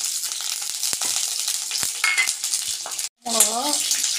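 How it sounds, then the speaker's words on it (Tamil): Dried red chillies fry in hot coconut oil with a steady close crackling sizzle, broken by scattered pops and stirring scrapes, briefly interrupted before the sizzling resumes. "தேங்காய் எண்ணெய் சூடாகிடுச்சு, சூடான உடனேயே 10 வரமிளகா கிள்ளி வச்சுருக்கேன்"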